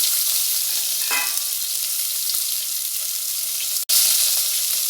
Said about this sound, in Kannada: ನಾನು ಸಾಂಬಾರು ಈರುಳ್ಳಿ ಹಾಕೋತಾ ಇದ್ದೀನಿ